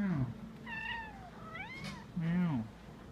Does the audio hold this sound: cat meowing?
yes